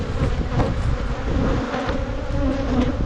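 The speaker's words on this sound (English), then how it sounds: "There's an emerging bee right there." Dense, steady buzzing of many honey bees crowding a hive frame in a nuc yard, a close, loud continuous drone with no speech.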